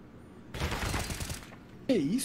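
A rapid burst of gunfire in a Counter-Strike match on the Nuke map between FURIA and Isurus at the PGL Major Antwerp 2022, about a second of fast rattling shots heard faintly and at a distance, followed by a commentator's voice.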